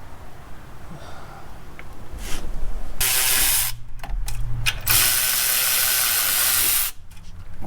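Ratchet working to extract a broken bolt from the back of the cylinder head on a 2007 Chevrolet Silverado, heard as loud, close mechanical clicking and rasping in long sustained bursts with brief pauses between.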